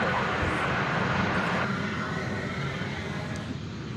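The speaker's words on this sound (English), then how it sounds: "American Flight 1217, an Airbus A321 going to Denver." An American Airlines Airbus A321 bound for Denver rumbles past at a distance, a moderate, even jet roar that eases slightly partway through, with no voices over it.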